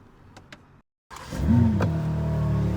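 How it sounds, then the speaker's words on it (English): A BMW engine is started with the start-stop button after a brief click and a moment of silence, cranking and catching into a steady, close idle with a whirring electric whine as it starts. "you now need to start the engine"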